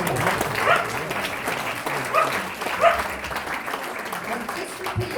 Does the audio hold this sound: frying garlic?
no